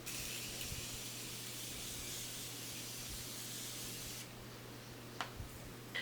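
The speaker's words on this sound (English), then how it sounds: "I'm going to go ahead and spritz my face." Face mist sprayed onto the face during a makeup routine gives a steady, close breathy hiss for about four seconds, then stops, leaving a quiet room with a couple of faint clicks.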